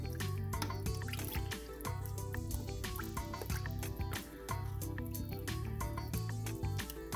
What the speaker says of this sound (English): And then we're going to give this a good stir.